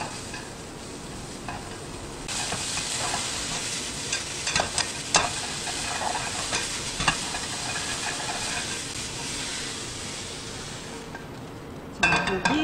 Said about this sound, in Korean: 기름 두르고요. 약불이나 중간불 정도로 이렇게 볶아주신대요.